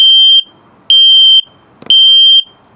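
Three loud, high-pitched electronic beeps from a carbon monoxide and LP gas detector self-test in a 2021 Flagstaff E Pro 12RK travel trailer, evenly spaced about a second apart, each a sustained piercing tone.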